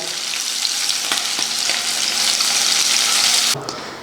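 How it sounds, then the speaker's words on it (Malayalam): Marinated sardines fry in hot oil in a pan, giving a loud, close, continuous sizzle that holds steady for several seconds and shifts slightly near the end. "ഒരു പാനിൽ എണ്ണ ചൂടായിട്ടുണ്ട് നമുക്ക് ഈ മാരിനേറ്റ് ചെയ്ത് വെച്ച മത്തി വറുത്തെടുക്കാം"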